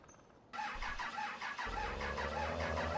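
A big-tired mod truck engine in the Spintires off-road game cranks, then catches and settles into a steady, loud, close idle after about a second of starter whir.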